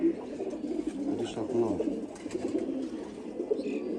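Pigeons coo softly with low, rolling calls under someone speaking in Bengali, in a busy loft among many birds.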